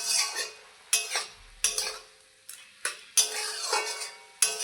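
A spatula scrapes and turns a taro flower fry in a pan, producing about seven distinct, evenly spaced stirring strokes with light clinks, close and fairly quiet, with no talking.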